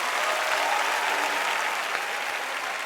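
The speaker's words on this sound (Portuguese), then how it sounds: "vamos aplaudir ao Senhor Jesus." A congregation at a live Brazilian gospel worship concert claps loudly and continuously, a thick sustained roar of many hands filling the hall, with no voices on top.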